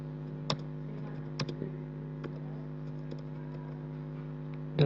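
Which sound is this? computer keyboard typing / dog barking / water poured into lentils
computer keyboard typing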